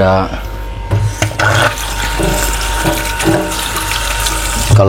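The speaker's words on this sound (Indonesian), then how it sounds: "Nah ini seperti biasa kita cuci, kita kasih garam secukupnya." Vegetables being washed in salted water for home-style shabu-shabu, with steady running tap water splashing and rubbing, loud and close, and scattered knocks throughout.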